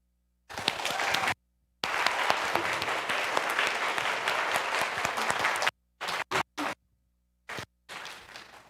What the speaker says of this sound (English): let's all give a big hand to our wonderful audience